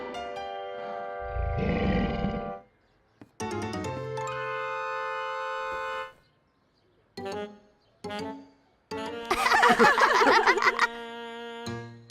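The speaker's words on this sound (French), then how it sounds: "Ce n'est qu'un bébé lion." A baby lion cub roars in a French-language children's cartoon: several drawn-out, bright tonal roars in bursts with short silences, loud and close, set among cartoon sound effects.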